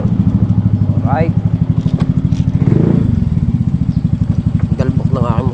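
A motorcycle engine idles nearby with a loud, rapid rhythmic chugging throughout. A voice speaks briefly over it.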